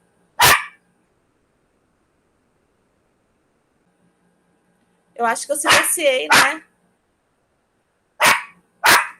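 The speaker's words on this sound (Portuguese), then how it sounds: "eu acho que até o cachorrinho está participando" Small dog yapping in short sharp barks, first a single bark, then a quick burst of several, then two more, close and loud in an otherwise quiet room, with a woman's brief speech nearby.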